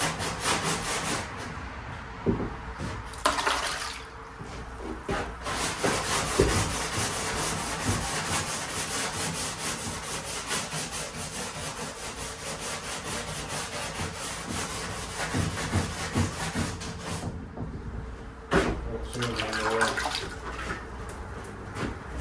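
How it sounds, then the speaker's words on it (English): Fiberglass on a sidecar under restoration being sanded by hand with sandpaper, long continuous rasping strokes close up with brief pauses, steady and rhythmic with no talking. "Make sure your hand don't slip off sandpaper."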